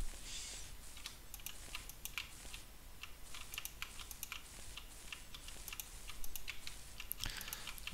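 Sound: computer keyboard typing

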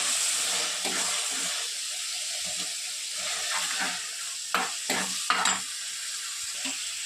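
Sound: tomato and onion frying in hot oil in clay pot

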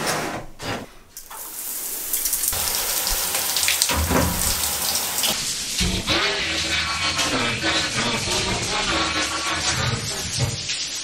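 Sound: shower water running

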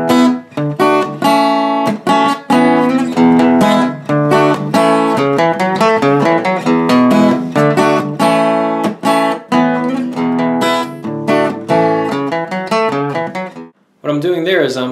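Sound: rhythm guitar part fade out

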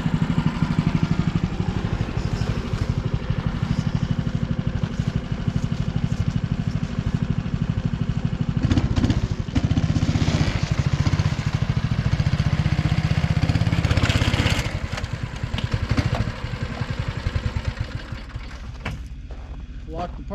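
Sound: Snowdog snow machine engine running while loaded for transport

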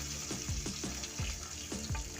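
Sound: fish frying in hot oil in a kadai

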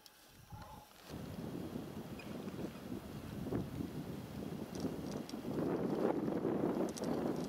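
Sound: wind blowing

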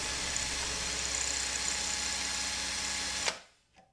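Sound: drill driving screw extractor in reverse

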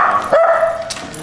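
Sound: guard dogs barking

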